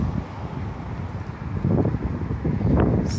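Steady blustery wind roaring across the microphone outside the north-facing side of a hat warehouse building, with low rumbling gusts that swell louder toward the end; no voices.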